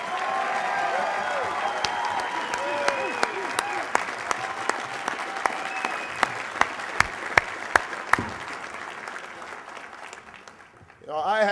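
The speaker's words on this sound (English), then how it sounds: "Please give Billy George a big round of applause." A crowd at a Pennsylvania AFL-CIO union gathering applauds a speech with a broad wash of clapping and cheering voices, punctuated by sharp knocks, then fades toward quiet before talk resumes at the end.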